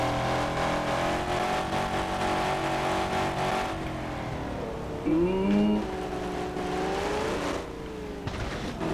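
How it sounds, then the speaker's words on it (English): Twincharged 10,000 horsepower car engine revving hard at full throttle in sport mode, a loud sustained roar with rising and falling pitch sweeps, close and continuous throughout. "I figure we just drive this thing until the engine blows."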